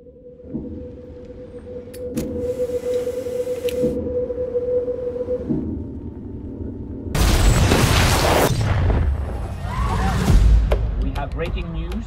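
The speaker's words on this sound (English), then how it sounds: "a large explosion has gone off in the center of the city" A deep, heavy explosion bursts in over a droning hum, with a roaring blast and rumbling debris that trails off into lingering noise.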